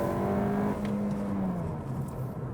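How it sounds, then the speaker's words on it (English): A 2022 Honda Civic Hatchback with a manual gearbox, revved at full throttle in second gear, shows rev hang. The steady engine drone lingers, then sinks slowly and gradually as the revs drop between shifts. It is heard alone. "That is rev hang, and so that means that the RPMs are staying up between shifts"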